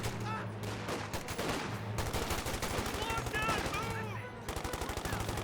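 Gunfire in the Company of Heroes 2 strategy video game: rapid machine-gun bursts rattle almost continuously at close range, dense and loud, with a voice speaking faintly underneath.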